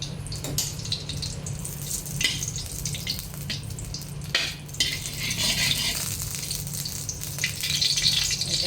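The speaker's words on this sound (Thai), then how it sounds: "มาผัดกันเลย ใส่น้ำมันหมูลงไปค่ะ" Pork lard heating in a pan for a stir-fry gives a constant loud sizzle and hiss. Occasional clatter and scraping of the utensil against the pan sit up close, and nobody speaks.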